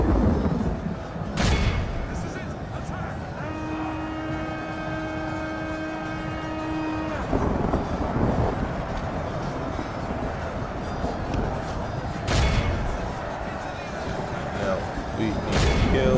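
Battle in a Middle-earth strategy game campaign: a continuous rumble of distant gunfire and artillery, with a few loud booming blasts and a sustained tonal drone in the middle, under steady background noise.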